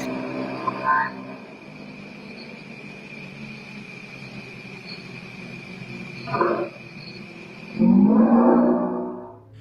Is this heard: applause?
no